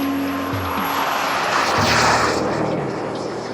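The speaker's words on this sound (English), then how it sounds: "Some of these RC planes are super powered." A model airplane engine drones overhead, a steady high-pitched buzz that swells and fades slightly as it passes.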